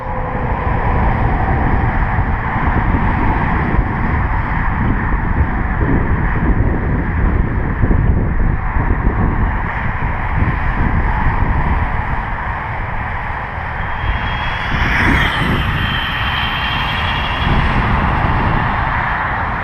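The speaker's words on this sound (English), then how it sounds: "I just hit full throttle right there." Ofna GTP 2E nitro RC car running at full throttle outdoors, a steady loud engine buzz under strong wind noise throughout, with no talking.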